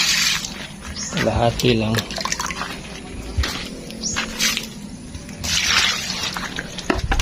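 Liquid fertilizer is poured from a container directly onto potted plant soil, making a soft, close trickling and splashing in a few short bursts while a person talks throughout.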